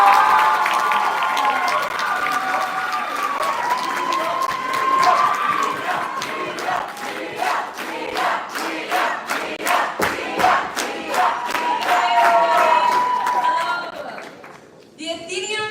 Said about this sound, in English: Big round of applause welcoming Mia Nieto.